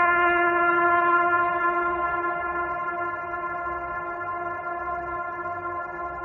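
A horn blown mightily sounds as a single sustained, loud, harmonically rich tone like a train horn, holding steady for several seconds and slowly fading slightly, with no voices.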